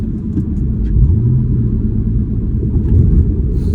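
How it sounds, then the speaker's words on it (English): Low, throaty engine rumble of a manual car with resonator and dual-exit exhaust, heard from inside the vehicle, rising and falling as the revs climb and settle, steady and loud. "Maybe you guys can hear the revs."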